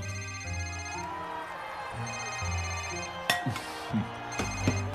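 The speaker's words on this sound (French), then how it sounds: "Laissez ce téléphone tranquille. Laissez sonner." An old-style telephone bell rings in repeated bursts, clear and fairly close, with faint knocks and rustling between the rings.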